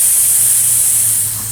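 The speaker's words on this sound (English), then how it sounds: "Here's it up close with the spray" Close, steady hiss of a lawn sprinkler spray head spraying water, a continuous loud rush with no talk over it.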